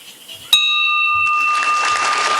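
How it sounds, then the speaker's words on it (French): A single clear bell strike rings out and sustains with a shimmering tone at a ceremony marking the start of construction works, while a crowd murmurs and applauds in the background. "Ce son de cloche marque le début des travaux"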